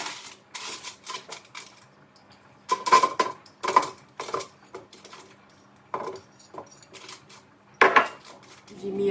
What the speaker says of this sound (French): Maintenant, je vais mettre la vaisselle dans le lave-vaisselle.